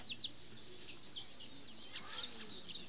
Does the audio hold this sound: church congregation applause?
no